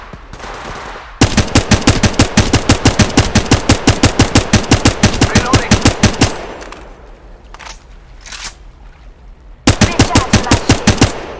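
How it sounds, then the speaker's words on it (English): Rapid automatic gunfire in the battle royale shooter Apex Legends, loud, close bursts of evenly spaced shots with a pause mid-clip before firing resumes, no talk. "I'm getting shot at."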